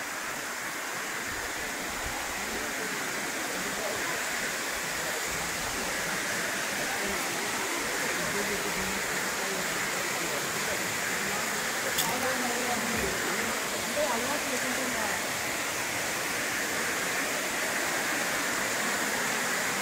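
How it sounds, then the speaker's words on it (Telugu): A waterfall beside a mountain trekking trail, where water falls year-round, gives a steady, dense rushing roar that holds evenly for the whole stretch without pause. "జలపాతాల వెంబడి సంవత్సరం పొడవునా నీళ్లు ఇలా జలపాతాలు పడడం వల్ల"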